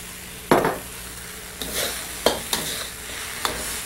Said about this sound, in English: Now let's add a teaspoon of salt, our ground spices,